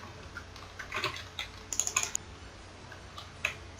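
Keys clatter on a new computer keyboard during a Minecraft Survival Games session, irregular bursts of close, crisp taps with short pauses and a quick flurry near the middle.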